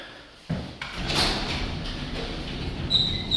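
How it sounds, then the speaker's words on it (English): A residential garage door rumbles and rattles as it moves, starting with a sudden clunk and continuing as a steady, moderately loud mechanical roll. "Garage door opens and closes fine."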